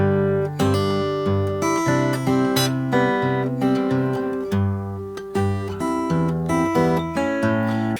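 Solo fingerstyle acoustic guitar plays the second chorus phrase of a song, with a picked bass line under plucked melody notes, close and clear, no voice.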